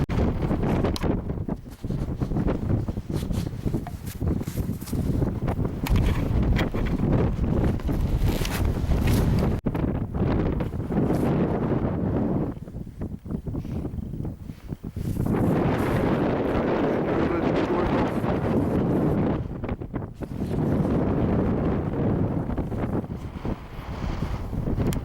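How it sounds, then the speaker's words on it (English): Strong wind roars steadily across an open mountain summit above Strathbrand, buffeting the microphone in loud gusts that swell and ease, with a brief lull midway before the rushing blast returns. "You can't hear me in the wind, I know that"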